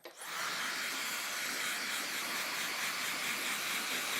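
A blow dryer switches on and runs as a steady, fairly loud whooshing roar, drying a painting of Santa Yoda; it holds unchanged for several seconds with no talking.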